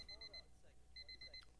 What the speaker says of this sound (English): Oh wait, that's my alarm clock.